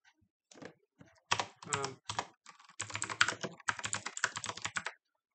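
Fingers type on a computer keyboard in close, crisp bursts of keystrokes with short pauses between runs, written code being entered in quiet surroundings.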